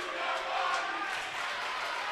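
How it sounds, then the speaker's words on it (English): Rowdy crowd at a boys' high school basketball game in a gym, a dense, loud wash of cheering and yelling that holds steady throughout, no distinct talk. "The NFA crowd is pretty rowdy"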